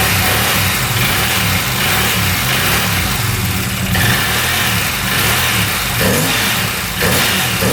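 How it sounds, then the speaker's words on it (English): A used UTV engine, suspected of a bad head gasket and smoking heavily, revs repeatedly in loud, close bursts that rise and fall over a steady running rumble, with no one speaking. "Sounds pretty good revving it out."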